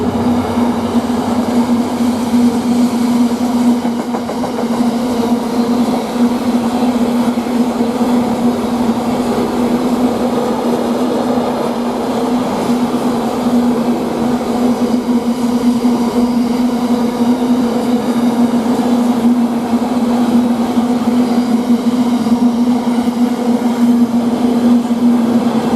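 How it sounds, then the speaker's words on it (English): Class 66 freight locomotive 66719 with its train rumbles steadily through March railway station, a loud, sustained engine drone with a persistent low hum and rolling wagon noise close by, no voices. "And eventually we've got a freight train which is to do with Felixstowe."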